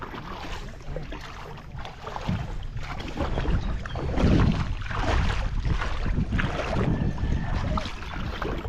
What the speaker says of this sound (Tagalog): nakasakay na tayo dito sa maliit na bangka